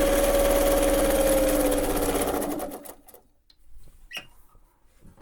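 A Pfaff 230 sewing machine stitches forward and then in reverse, its steady mechanical whir running loud and close for nearly three seconds before stopping, followed by a few faint clicks.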